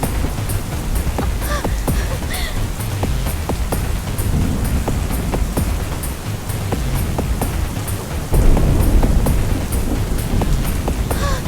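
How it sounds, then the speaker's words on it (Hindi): Heavy rain pours steadily in a film scene, a dense continuous roar with scattered drops and a swell in intensity near the end; no distinct thunder stands out. "बहुत तेज बारिश होने वाली है"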